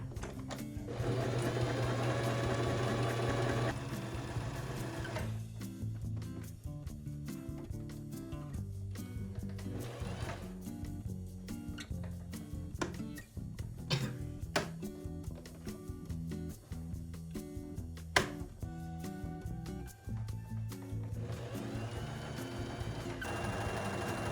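A sewing machine runs along fabric in long continuous bursts with brief pauses between, a close, steady mechanical hum and rapid needle rattle, with no talking.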